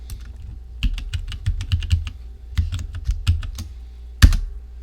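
A computer keyboard being typed on in a quiet room to enter a password, a steady run of close, distinct key clicks with a brief pause and one louder final keystroke, like pressing enter.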